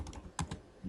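A few quick keystrokes tap on a computer keyboard, close and crisp, in short irregular bursts during input of Python code.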